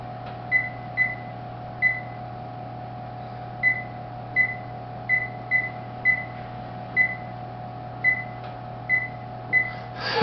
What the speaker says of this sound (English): Set my timer again.